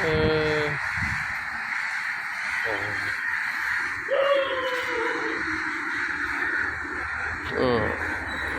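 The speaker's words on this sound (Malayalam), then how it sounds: "ഈ നാട്ടിലെ പഞ്ചായത്തിൽ സർവ്വ കാക്കകളും ഉണ്ട് ഇവിടെ" Several crows caw loudly nearby, harsh repeated calls scattered over a constant background hum.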